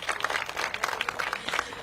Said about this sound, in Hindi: एक बार जोरदार तालियां आप अपने लिए भी बजाइए।